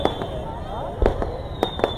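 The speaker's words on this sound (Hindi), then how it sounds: "इस तरफ ये शानदार आतिशबाजी ये हो चुकी, ज़बरदस्त।" Fireworks burst repeatedly at a Pakistan Independence Day celebration at night, with sharp booms and crackles spaced irregularly over a dense crowd murmur and nearby talk.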